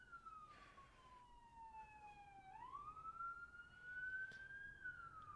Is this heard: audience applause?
no